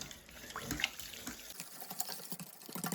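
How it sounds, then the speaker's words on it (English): A cup of water is poured into a thick sauce for a gluten-free fish pie, a steady, close liquid trickle and splash with faint drips and no talk. "I'm going to add a cup of water."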